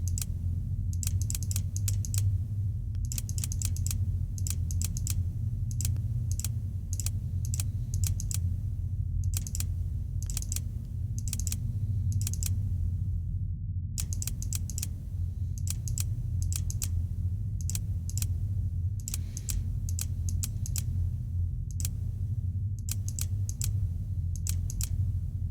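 Clicky keyboard typing in the horror game SIGNALIS: bursts of rapid, crisp key clicks with brief pauses, repeating steadily throughout over a constant low hum of game ambience.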